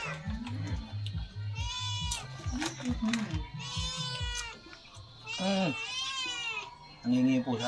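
A cat meows several times, close by, between stretches of people talking.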